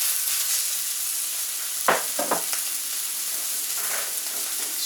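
Chicken breasts sizzle in canola oil on a Camp Chef flat top grill, a steady crackling hiss throughout with a few brief scraping clatters from utensils partway through, close and unaccompanied by talk.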